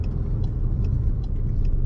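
Skoda Octavia Estate SE Technology diesel heard from inside the cabin, a steady low engine and road rumble as it accelerates hard from rest, no one speaking.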